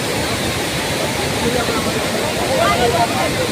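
Waterfall at Hundru or Dassam Falls, a dense, steady rush of falling water filling the scene, with faint voices underneath.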